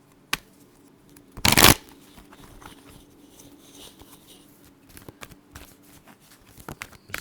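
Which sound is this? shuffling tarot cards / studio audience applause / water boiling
shuffling tarot cards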